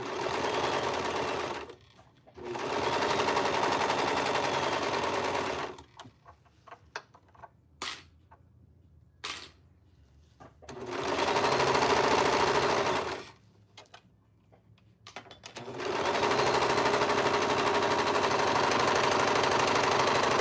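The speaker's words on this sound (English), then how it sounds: "I am using my serger for some of it because you get rid of all this frayiness" A serger sewing machine trims and finishes frayed fabric edges in loud, rapid mechanical runs. Three long bursts are broken by quiet gaps with small clicks and handling noises, all close up.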